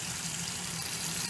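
A Whirlpool Estate washing machine fills with water, giving a faint, steady rushing hiss with no breaks.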